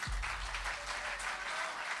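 Steady applause from a live festival audience in Cagliari for an award winner, a dense crackle of many hands clapping at an even level throughout, with no voices over it.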